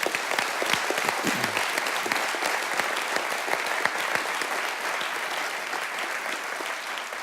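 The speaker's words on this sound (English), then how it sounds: "Let's give them a round of applause" Sustained round of applause from an audience at a military address at a college of law, dense and steady clapping from many hands that holds evenly for several seconds before easing slightly.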